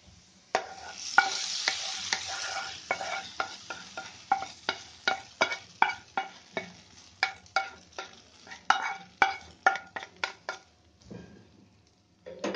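Hot tempering (baghar) poured into dal maharani sizzles briefly, then a spoon stirs through the pot in a regular series of scraping strokes, with the sizzle fading beneath them.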